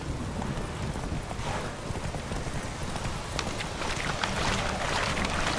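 Roach the horse from The Witcher 3 gallops in a steady, dense patter of hoofbeats that stays close and loud throughout, layered with wind and outdoor ambience.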